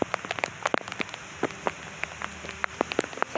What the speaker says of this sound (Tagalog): Oh, maulan dito sa Army Camping Ground.